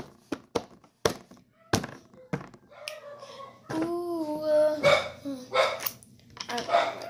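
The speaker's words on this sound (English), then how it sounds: "I don't know why my dog's barking." A dog barks in several sharp, close bursts spaced over a few seconds, with a longer stretch of vocal sound midway and thumping noises around it.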